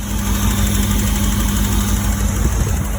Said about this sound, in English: it was time for me to start the engine